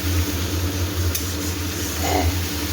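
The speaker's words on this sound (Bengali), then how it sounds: "মশলাটা খুব ভালো করে আমি কষিয়ে নেব।" Spice paste with onions, salt and turmeric frying in a pan for soyabean kofta curry gives a continuous, fairly loud sizzle with faint stirring scrapes.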